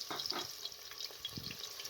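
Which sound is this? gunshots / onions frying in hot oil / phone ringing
onions frying in hot oil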